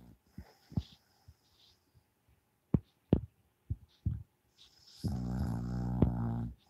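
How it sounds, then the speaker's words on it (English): A sleeping woman snores close by, a rough sustained snore building near the end after scattered soft thumps and breathy sounds in a quiet room. "She's snoring"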